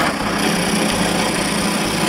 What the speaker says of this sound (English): After cutting it, I drill the holes for the three stainless steel shafts.